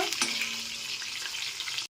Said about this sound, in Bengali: আমি এখন মাছগুলোকে লাল লাল করে ভেজে নিচ্ছি কালিয়ার জন্য